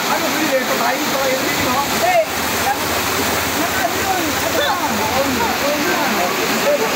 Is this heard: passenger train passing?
no